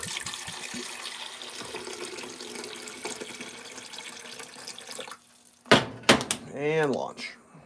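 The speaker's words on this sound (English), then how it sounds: "Add the water." Water runs steadily from a tap into a pot or pan while breakfast is cooked, a close, even splashing rush for about five seconds that then stops, followed by a few bumps and a voice.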